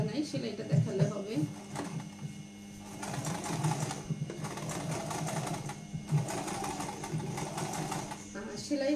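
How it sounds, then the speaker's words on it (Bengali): Sewing machine stitching fabric during a tailoring class, a steady rapid mechanical whir with bursts of faster running, while a person talks over it throughout. "আমরা একটু ক্যামেরা দিয়ে সেলাইটা দেখাবো"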